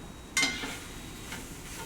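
Food browning in a hot pan gives a soft, steady sizzle, marked by a brief stirring clatter near the start and then a quieter, continuous frying hiss on its own.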